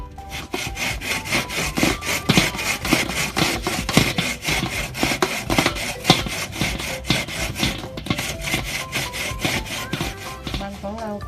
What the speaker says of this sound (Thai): ขั้นตอนต่อไปเพื่อนๆนำมันมาขูดนะคะ